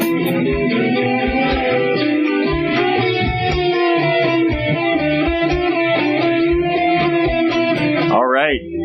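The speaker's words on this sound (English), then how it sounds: "What you just heard was the Ancient Light theme song" The Ancient Light podcast theme plays loud and continuous in front of a live festival audience, a steady tonal tune with a rhythmic beat that slides up at the very end.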